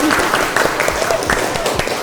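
Students in a classroom clap for a group's presentation, a brief burst of scattered applause with a voice talking over it.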